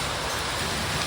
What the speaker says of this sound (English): Oh my gosh, it's hailing.